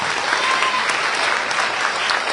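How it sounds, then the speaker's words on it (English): A crowd claps steadily with dense, loud applause at a school event, sustained throughout without a break. "All this alone deserves a nice round of applause."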